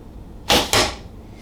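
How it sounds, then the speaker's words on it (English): An arrow with a lighted nock is released from an Omega Huntsman longbow: a sharp, loud twang and whoosh, followed almost at once by a second burst as it strikes close by, then quiet. "So I'm gonna shoot a lighted knock on here so you can see the air flight just a little bit better."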